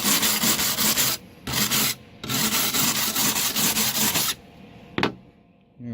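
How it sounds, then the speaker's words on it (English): A wire brush scrubs hard across a welded seam on the driver's quarter panel of a 2003 Cadillac CTS, loud rasping strokes in three bursts separated by brief pauses, then a single clack and quiet. "I'm gonna grab the wire brush."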